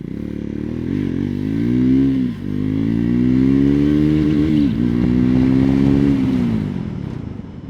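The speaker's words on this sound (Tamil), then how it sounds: "ஒரு சின்ன லான்ச் கொடுத்து நம்ம டக்குன்னு எயிட்டிக்கு போயிட்டு" A Triumph 400 XC motorcycle launches hard and accelerates toward eighty, its engine note climbing loud and close with a few brief dips at gear shifts before easing off near the end.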